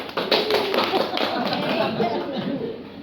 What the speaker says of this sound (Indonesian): Tepuk tangannya mana dong? Yang meriah, yang meriah.